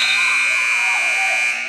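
A loud, sustained electronic buzzer marks the end of the third quarter at an ABA basketball game between the New York Hoop Dragons and NY Harlem Underdogs, holding steady for nearly two seconds over arena noise and a commentator's voice.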